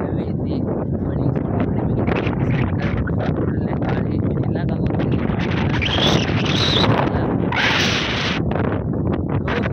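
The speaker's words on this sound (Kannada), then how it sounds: "ಗಾಳಿ ಮಾತ್ರ ಹೆವಿ ಐತಿ." Strong wind gusts across a lake embankment on a rainy day and buffets the microphone with a steady, heavy roar that never lets up. Faint rustling can be heard beneath the roar.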